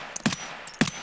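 Two sharp, loud gunshot-like bursts about half a second apart, each a sudden broadband crack with a short decay, from the video game Escape from Tarkov.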